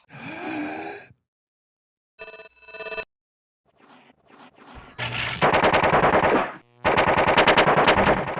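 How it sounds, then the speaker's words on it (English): A gun fires in bursts and reloads in the Pathways Into Darkness video game; short bursts of rapid shots are separated by silent gaps and mechanical clicks, followed by longer, louder sustained automatic fire. "It reloaded to a regular mag."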